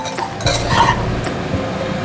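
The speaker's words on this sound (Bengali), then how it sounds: "চালটাকে একটু ভালো মতন করে পেঁয়াজের সাথে ভেজে নেব" Rice grains and onions fry in a pan while being stirred, giving a steady close sizzle layered with scraping and clinking from the spoon against the metal.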